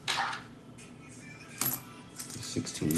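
Nickels clinking and dropping while being sorted during a coin roll hunt: close, bright metallic jingles and clatters in several bursts, with a busier rattle near the end.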